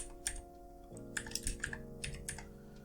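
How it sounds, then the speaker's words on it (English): Keys tap on a computer keyboard in a short, quick run of light clicks over a faint steady background hum. "Type in your text"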